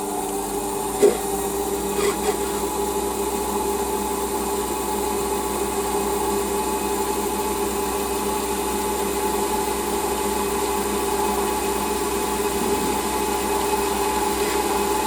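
A lathe takes a skimming cut across a Stuart Models S50 engine cylinder head, a steady, even mechanical hum with a tonal whine, broken by a couple of small knocks near the start.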